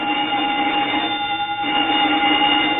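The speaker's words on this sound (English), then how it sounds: "The old woman must have turned in an alarm." An alarm goes off in a futuristic setting, a steady, loud electronic tone with a sustained high pitch that holds unbroken throughout, alone with no voices.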